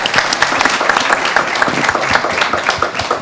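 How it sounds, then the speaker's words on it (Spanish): A company audience at a productivity gathering at a plant bursts into loud, steady applause, dense overlapping hand claps sustained without a break throughout. "un fuerte aplauso para Biomex"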